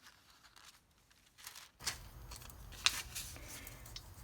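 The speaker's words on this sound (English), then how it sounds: "And now I'm going to cut it out." Scissors snip through paper along a traced shape, a few close crisp cuts with light rustling of the sheet and one sharper snap near the end, alone and fairly quiet.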